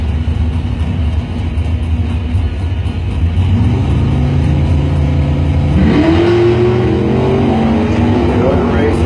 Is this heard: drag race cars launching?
yes